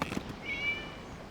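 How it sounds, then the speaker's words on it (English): A single short cat meow in the Genshin Impact video game, faint and brief against a quiet background. "It was just a cat."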